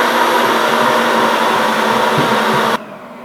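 A stand mixer kneads pizza dough with a loud, steady motor whir and faint rhythmic thumps that continue without a break, then cut off near the end, leaving only quiet room tone.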